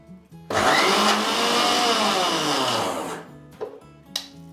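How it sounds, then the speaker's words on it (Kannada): A mixer grinder coarsely grinds soaked dal in a loud, continuous whirring burst of about three seconds, then cuts off, leaving a few short bumps and rattles. "ಎಲ್ಲ ಬೇಳೆನೂ ಇದೇ ಥರ ರುಬ್ಕೋಬೇಕು"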